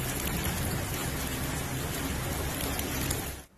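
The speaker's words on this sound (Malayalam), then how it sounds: "വടക്കൻ എമിറേറ്റിലെ ചില മേഖലകളിൽ കനത്ത മഴയാണ് വൈകിട്ടോടെ അനുഭവപ്പെട്ടത്." Heavy rain falls in the UAE's northern emirates as a dense, loud, steady hiss of downpour. It cuts off sharply at the end, with no voices.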